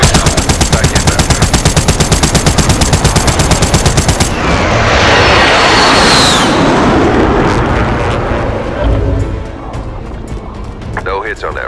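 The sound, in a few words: airstrike explosions and gunfire in Call of Duty: Modern Warfare video game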